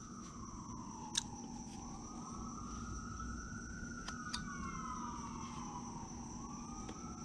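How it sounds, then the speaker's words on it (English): A police siren wails steadily, its pitch sliding slowly up and down across a constant background hum, with a few sharp clicks along the way. "There's a good old police car making lots of noise"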